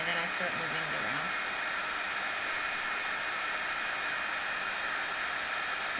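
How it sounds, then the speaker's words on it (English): A heat embossing gun blows steadily on embossing powder, giving a constant, fairly faint airy hiss with no break. "I tend to leave my embossing gun in one place until I start seeing it go,"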